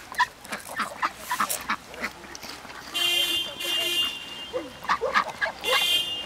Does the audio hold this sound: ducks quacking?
yes